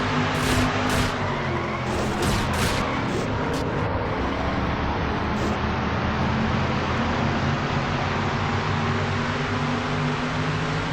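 Stock race car running on track through turn 3, heard from onboard Keith Batson's car as a steady, loud, dense engine and wind roar that holds constant throughout with no talk.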